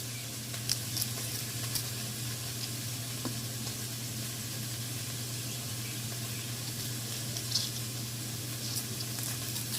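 Pressed garlic sizzles in a pot with onion and sweet peppers, a soft, steady crackle under a low constant hum, with a few faint clinks and pops scattered through.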